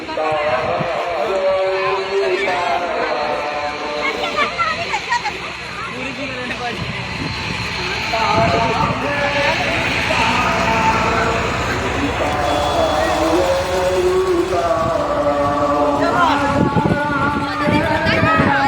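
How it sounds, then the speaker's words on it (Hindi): A steady helicopter engine drone overhead as it showers flowers on a 104-foot Hanuman statue, running throughout beneath constant crowd chatter and music. "और ये देखिए हेलीकॉप्टर"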